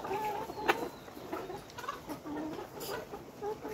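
A Nourish layer hen on a poultry farm clucks in short, close, intermittent bursts over a quiet barn background.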